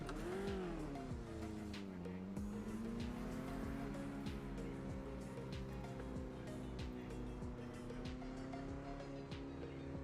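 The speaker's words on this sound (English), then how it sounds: "He hit the compression in the little kink to the left, and he just spun when the car unloaded" Race car spinning out after hitting a compression in a left kink. A high engine whine sweeps down and back up under continuous tire noise, heard from a distance and staying fairly steady throughout.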